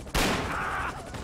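A single loud, close burst of gunfire in GTA V on PC, with a sharp onset and a sustained rattle that cuts off after about a second.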